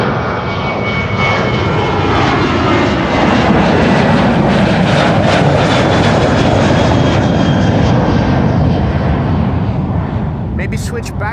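Jet engines of the Cathay Pacific retro-livery aircraft thunder during departure from Amsterdam Schiphol, a loud sustained roar that swells and then eases slightly before fading.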